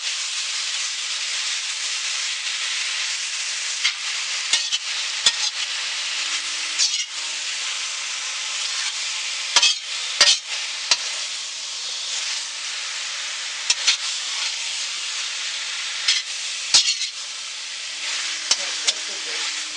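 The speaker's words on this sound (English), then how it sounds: "You just stir it up all like that." Rice and bacon fry together in a pan, a steady hiss and sizzle broken by scattered scraping knocks as a utensil stirs the mixture at close range.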